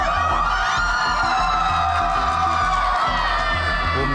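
A football crowd in the stands roars and cheers continuously, a dense, loud wash of voices with shouts and whoops rising over it.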